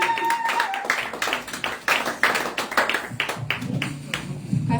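Church congregation clapping during a revival-week service, uneven rhythmic claps and taps close by, mixed with a few voices talking and calling out underneath.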